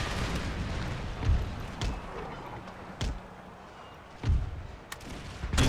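Cannon and gunfire from an Empire video game battle: sporadic booms and sharp shots every second or so, some heavy and low, over a steady rumbling battlefield din.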